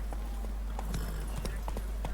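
Roach the horse in The Witcher 3: Wild Hunt clopping along at a steady pace, with scattered hoofbeats over a constant low rumble and a voice speaking in the background.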